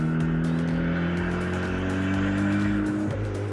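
A turbocharged Toyota Celica GT-S engine roars steadily at close range at low speed, its sustained drone and rising turbo whine filling the clip with no voices.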